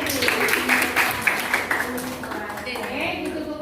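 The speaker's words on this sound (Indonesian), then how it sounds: "Tepuk tangan dulu semuanya." A class of students claps together in a classroom, a dense burst of applause that thins out as voices keep talking over it.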